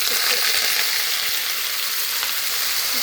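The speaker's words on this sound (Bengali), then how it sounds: "এই সবজিটা এখন আমি একটু ভেজে নিব।" Vegetables frying in a pan for khichuri, a steady close hiss and sizzle of hot oil throughout, loud and continuous with faint stirring clicks.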